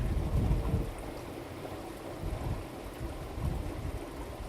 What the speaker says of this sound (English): we're going to send all of the airflow to the other side of the aeration chamber